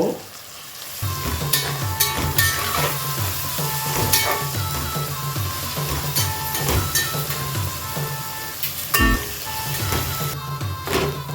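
Chopped onions, salted to soften faster, fry steadily in a pan until golden for mutton biryani: a dense, continuous close sizzle with occasional brief crackles, alone with no talk.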